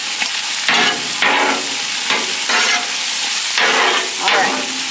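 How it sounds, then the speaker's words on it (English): Cabbage sizzles and steams on a Blackstone flat-top griddle, a loud, constant frying hiss that swells in regular bursts as the food is stirred and turned, with no voices. "let's check on this cabbage here. See how it steams up real nice?"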